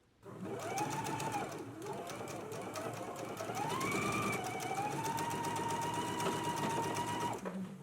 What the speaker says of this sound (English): let's go ahead and stitch using a 5/8 of an inch seam allowance